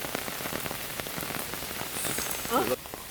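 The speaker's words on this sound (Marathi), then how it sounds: "पाऊस पण आता पडला आहे" Rain falls steadily in coastal Konkan, a close, even patter of drops on an umbrella and the ground, with a brief voice sound near the end.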